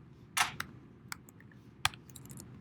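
A few sharp key clicks on a computer keyboard, scattered bursts with gaps between them over a quiet room hum, close and moderately loud, with no talking.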